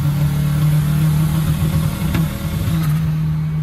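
A 16-valve turbocharged Rabbit car engine running steadily up close with a strong low hum, briefly faltering and dipping as it cuts out partway through, then recovering.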